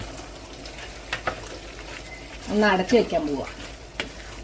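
Coriander leaves stirred into sizzling mutton curry in a pan, a brief scraping stir with crackling sizzle rising for about a second, close, after a quiet stretch with faint background noise and a few soft knocks.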